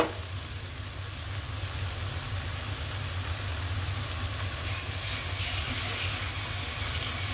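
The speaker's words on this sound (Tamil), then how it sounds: "மிளகாய் போட்ட பிறகும் கொஞ்சமாக நாங்கள் தண்ணி விடலாம்." Water is added to ground chili paste cooking in a pan for Malaysian prawn sambal, a steady close sizzle with a low constant hum beneath.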